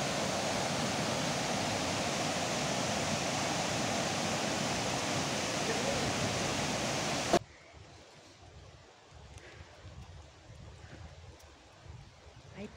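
The Río Oro de Tamazulapan in Oaxaca rushes in a loud, steady broadband wash up close, then cuts abruptly to a much quieter, distant flow with faint rustling for the remaining seconds.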